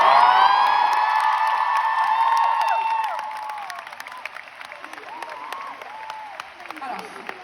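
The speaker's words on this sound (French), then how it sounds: "Donc on peut les applaudir très très fort." A large arena crowd at a concert at Palais 12 cheers, whoops and applauds the show's crew, loud at first with shrill shouts, then thinning into scattered claps and calls.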